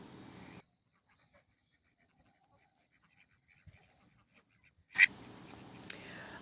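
Ducks ranging in open farm fields give a few quacks in the distance, faint and spaced out across a quiet stretch. Louder outdoor noise starts and stops around them.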